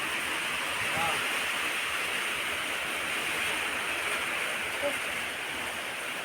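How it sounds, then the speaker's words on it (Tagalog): Constant roaring wash of big storm surf at sea, broad and unbroken, with no talking; heavy sea noise rolls on steadily. "Hala, grabing bawod sa dagat, uy."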